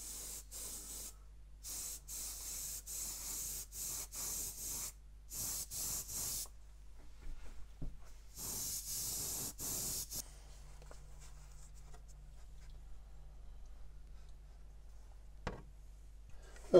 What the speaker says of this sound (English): You can see that in one or two places, like here, the airbrush has been spitting.